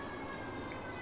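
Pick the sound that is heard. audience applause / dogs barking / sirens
sirens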